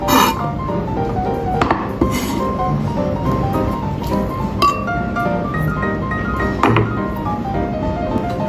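Spring onion is cut into cubes with a knife on a board for an onion bread omelette, producing close, sharp chopping taps at an irregular pace over faint background hum.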